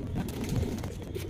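A male pigeon of the Andhra kalsira fulsira type coos softly, low throaty murmurs close by over a steady background hum, with no talking.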